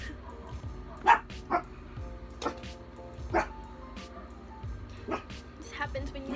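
A dog barks several times in sharp, irregularly spaced bursts, some loud and some softer, over a low background with a voice talking.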